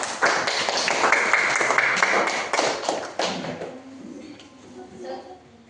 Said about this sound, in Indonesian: kita beri tepuk tangan kepada